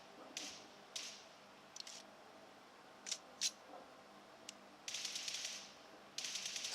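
In the video game BGMI, single-tap gunshots crack out one at a time at uneven intervals, then two longer sustained bursts of rapid fire follow, all crisp and close with no talking.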